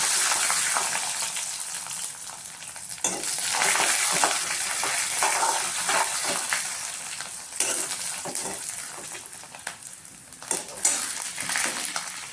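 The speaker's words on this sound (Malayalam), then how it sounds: "അത് കഴിഞ്ഞാൽ നമുക്ക് ചെയ്യേണ്ടത് കുറച്ച് അരി ഇട്ട് കൊടുക്കാം. നമുക്കിങ്ങനെ ഇളക്കി കൊടുക്കാം." Dried red chillies and rice are stirred in a hot frying pan at home. A bright, hissing sizzle is broken up by repeated scraping and rattling strokes, close and loud throughout, with no talking.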